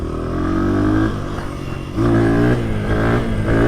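A dirt bike engine revs loud and close through a controlled slow wheelie, its throttle holding steady and then rising in a fresh surge partway through.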